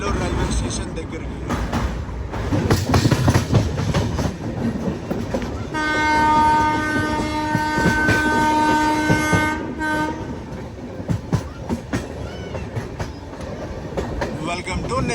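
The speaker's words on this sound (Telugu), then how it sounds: "నెల్లూరుకు ముందు పెన్నా నదిని అయితే క్రాస్ చేస్తున్నాం." Howrah–Kanyakumari Superfast Express crossing the Penna river near Nellore, loud rumbling wheel clatter with a long sustained horn blast in the middle, heard from aboard the train with voices over the noise.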